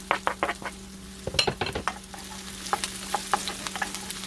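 Ginger sautéed in a pan with garlic for chicken adobo, a light crackling sizzle under repeated spatula scrapes and taps against the pan, close and uneven, with no talking.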